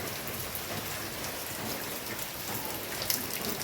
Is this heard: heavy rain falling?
yes